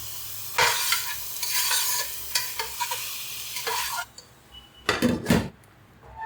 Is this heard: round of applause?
no